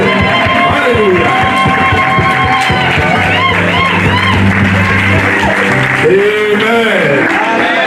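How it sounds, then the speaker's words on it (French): A church congregation applauds and cheers loudly and continuously, a dense wash of clapping with whoops and shouts, while organ or keyboard music and voices carry on underneath throughout. "Acclamons encore une fois la parole de Dieu"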